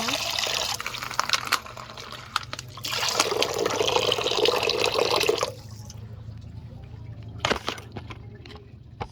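Water running and splashing from a tap while washing, in bursts that start and stop, with a brief trickle near the end and a low background hum.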